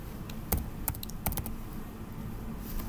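Typing on a computer keyboard while entering a formula into Excel, with a few sharp, irregular key clicks standing out above a low, steady room hum. No one speaks.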